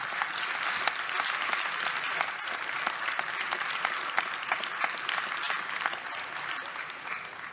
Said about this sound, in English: I have to applaud you